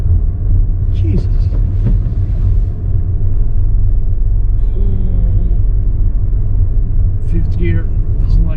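A car driven without the gas pedal labors in fifth gear, its engine giving a heavy, low rumble that drones steadily and close up, with a voice talking over it at moments.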